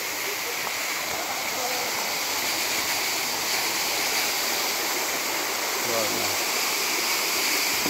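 A waterfall near the bank of the Sapta Koshi river in Dhankuta, Nepal, pours in a constant, broadband rushing wash of falling water that holds steady throughout.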